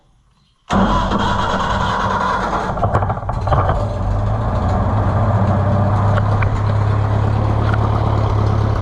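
A tractor engine cranks and catches after near silence, then settles into a loud, steady, slightly rough idle from a carburetor running too rich, close by and with no one talking.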